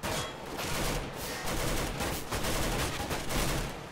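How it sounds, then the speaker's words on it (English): Rapid, sustained gunfire from the Counter-Strike: Global Offensive video game, dense bursts of shots fired continuously and loudly for several seconds with no talk over them. "There's two people shooting you."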